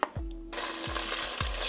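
Chicken pieces drop into hot sunflower oil in a pot with a few dull knocks, then a close, continuous sizzling hiss takes over.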